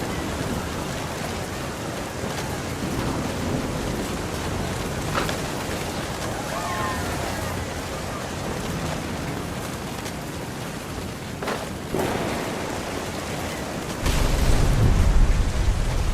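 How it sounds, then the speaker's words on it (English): Storm ambience in the game What Remains of Edith Finch: steady rain hissing throughout, with a heavier low rumble of thunder swelling near the end. "Thunder sounded much too close and full of angry power."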